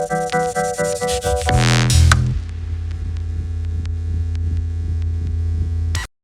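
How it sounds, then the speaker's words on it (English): A synthesized drum and bass kick drum built from a sine wave with pitch automation: a string of deep electronic thumps gives way to a sustained booming low tone that ends abruptly. "Here I have the most basic kick that you can possibly synthesize. This is a simple sine wave with a pitch automation."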